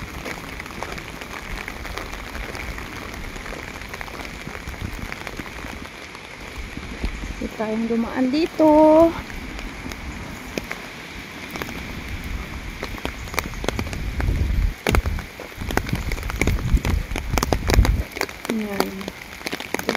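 Continuous rainfall spatters outdoors on a cold, wet day in the UK, a dense steady hiss with heavier bursts of drops, while someone talks briefly over it.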